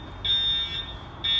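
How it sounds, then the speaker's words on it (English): A fire alarm at a shopping area in Midvale, Utah sounds in loud, shrill, sustained electronic tones, starting, breaking off briefly and starting again over a low background rumble. "the fire alarms are going off over at Michael's and DSW Shoes and"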